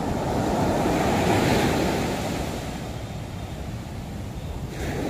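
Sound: large sea waves at Nha Trang beach

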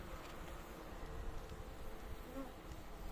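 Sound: honey bees at a hive

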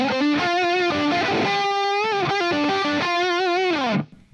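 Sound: electric guitar lead through Friedman JJ Jr amp, BE mode, without Boss SD1 overdrive

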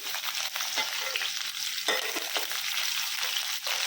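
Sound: frying onions and green chillies with urad dal tempering

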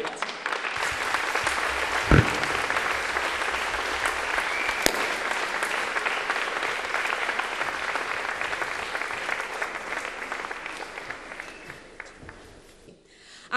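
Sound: audience applause for the orchestra Via del Grano

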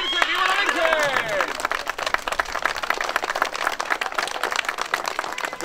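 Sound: crowd applauding at a religious procession

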